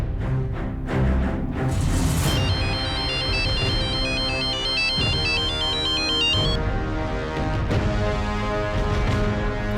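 A phone ringtone plays loud and close, a repeating electronic melody with bright tonal notes cycling steadily, no voices over it.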